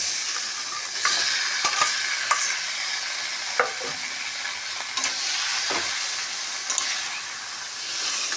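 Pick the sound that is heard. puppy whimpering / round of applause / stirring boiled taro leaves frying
stirring boiled taro leaves frying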